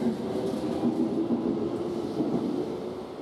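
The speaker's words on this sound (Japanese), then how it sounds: "この列車がホームを出ていく頃" Steady low rumble of a Keikyu train rolling out of Keikyu Kawasaki Station platform, a continuous rail hum with faint rhythmic clatter, moderately distant.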